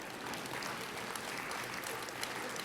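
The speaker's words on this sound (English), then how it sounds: "you can clap, it's good" An audience at a State of the Valley economic briefing speech bursts into steady, dense applause. The many hands clap continuously at an even, moderate level with no voices over them.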